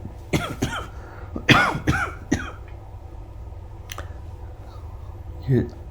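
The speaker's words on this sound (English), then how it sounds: "And hear that cough too." A person talks briefly, then coughs a few times nearby; a faint cough follows later amid quiet background.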